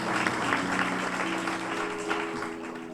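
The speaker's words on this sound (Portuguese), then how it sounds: "Aplaudamos a santa e poderosa palavra de" A church congregation applauds after a scripture reading, a soft, sustained patter of clapping with a faint steady tone underneath, somewhat distant and continuous throughout.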